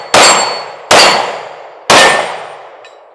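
Pistol rounds from a Smith & Wesson Shield Plus strike small steel targets, giving three loud, sharp metallic clangs spaced about a second apart, each ringing out and fading.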